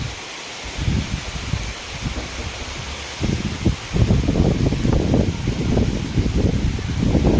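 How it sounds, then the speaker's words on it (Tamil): Heavy rain driven by wind in a Tamil village, a steady broadband hiss with gusty low rumbles that swell and strengthen partway through, close to the microphone and with no talking. "மழை பெய்யுறது உங்களுக்கு தெரியுதா இல்லையான்னு தெரியல, ஆனால் சரியான மழைங்க."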